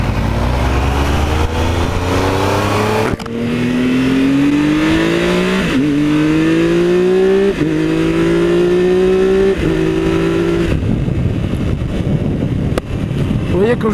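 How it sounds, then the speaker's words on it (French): Triumph Tiger 1200 XCA three-cylinder motorcycle engine pulling hard through several quick upshifts, each gear a rising whine cut by a short dip, heard close amid heavy wind rush while riding. "Alors le moteur, on est sur le 3 cylindres Triumph, hein, vous avez reconnu au bruit"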